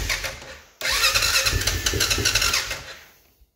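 A Honda Foreman Rubicon ATV engine, its carburetor drawing fuel, catches after a short crank and runs for a couple of seconds with a loud, rough, pulsing idle before cutting out, close by.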